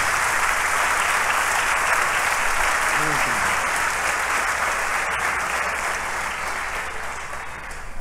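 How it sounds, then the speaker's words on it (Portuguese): A church congregation at a thanksgiving service bursts into a loud, sustained round of applause, dense and steady throughout and easing only slightly toward the end. "gostaria de vocês dessem até uma salva de palmas bem forte"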